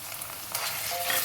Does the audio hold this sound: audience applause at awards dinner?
no